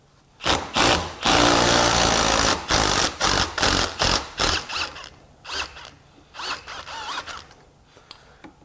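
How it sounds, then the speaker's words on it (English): A 3/8-inch impact wrench fitted with a Gearwrench Bolt Biter extraction socket hammers in repeated short bursts, one long sustained rattle followed by a run of quick pulses that fade softer toward the end, close and loud. "Break out the 3/8 impact."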